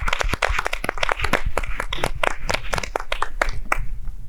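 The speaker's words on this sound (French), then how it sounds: "c'est monsieur Jacques Manga que je vous prie d'applaudir, s'il vous plaît." Audience applause for a guest on a French teen discussion show, heard as dense, uneven hand clapping with sharp individual claps close by, steady throughout and easing slightly near the end.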